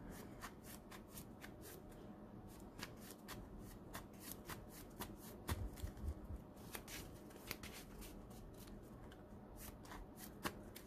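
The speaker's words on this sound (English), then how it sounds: "We're going to get a good shuffle in." A deck of cards is shuffled repeatedly, with crisp riffling flutters and soft taps recurring steadily at close range in a quiet room.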